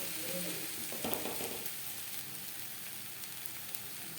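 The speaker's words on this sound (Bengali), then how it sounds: "মিডিয়াম ফ্লেমে 2-3 মিনিট নাড়াচাড়া করে নেব" Banana stem (thor) being stirred and fried in a pan over a medium gas flame, a steady soft sizzle with a brief burst of spatula scraping early on, close and continuous with no voices.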